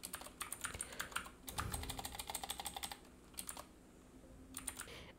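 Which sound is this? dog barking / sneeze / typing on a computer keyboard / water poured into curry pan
typing on a computer keyboard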